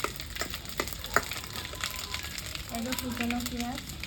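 Chopped onion fries in hot oil with dried chillies, cinnamon, cloves, cumin and bay leaves, giving a steady close sizzle broken by crackles and pops, and a voice speaks briefly over it.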